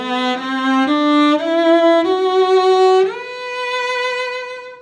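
A cello plays a slow ascending scale, each note bowed separately with short breaks between strokes, five or six sustained tones rising in steps, solo and close.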